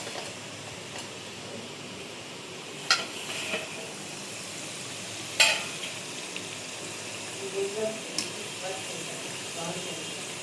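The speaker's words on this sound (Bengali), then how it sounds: "এইভাবে আস্তে আস্তে নিভে নিভে তেলে ভাজলে খুব ভালো ভাজা হয়" Gujia frying slowly in oil, a soft, steady sizzle running throughout, with a few brief clinks and scrapes of a utensil against the pan.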